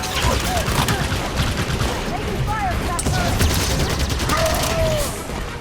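Dense gunfire rattles continuously in a Halo 5: Guardians battle, with rapid shots, whizzing projectiles and occasional heavier bursts filling the scene at a loud, steady level.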